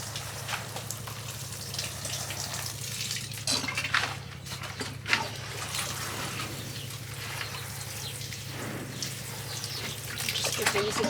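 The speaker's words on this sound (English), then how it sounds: "It's always important to water the seed trays." Water pouring onto freshly sown seed trays, a close, steady trickling and splashing that runs throughout with a few louder spatters.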